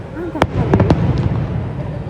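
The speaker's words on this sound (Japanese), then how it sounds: "急に花火の音が聞こえて慌ててベランダに出ました。" Fireworks burst at night over Lisbon, several sharp pops and booms in quick succession, heard from a hotel balcony with a crackling, rumbling wash between blasts.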